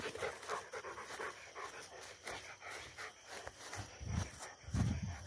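Two Rottweilers pant steadily and close by while walking down from a tower, their breathing rhythmic and continuous, with louder low thumps near the end.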